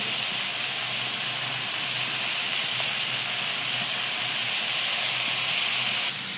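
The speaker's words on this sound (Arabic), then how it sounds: "واللحمه عندي خدت لون وبتستلق دلوقتي اهو" Meat sears in a hot pan with a loud, steady sizzling hiss that holds evenly from start to finish.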